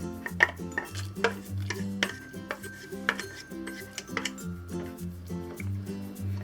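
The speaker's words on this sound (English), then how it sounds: "let's add the mushrooms and the wood ears" Mushrooms and wood ear fungus going into a pot of hot and sour soup, with repeated clinks and knocks of a utensil against the pot and soft wet plops, close and irregular.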